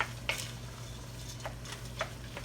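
Frozen sweet corn being stirred into a big pot of cheesy BBQ beef macaroni, with a few scattered spoon scrapes and clinks over a steady low hum, no talking.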